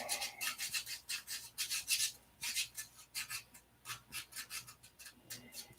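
A small fingernail file rasps in quick, rhythmic back-and-forth strokes, close and fairly quiet, with a brief pause partway through and no talking.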